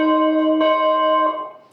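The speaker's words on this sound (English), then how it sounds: "I love this bell." A bell rings with a sustained, layered tone, struck again partway through so the ringing swells, then fades out near the end; no voices are heard.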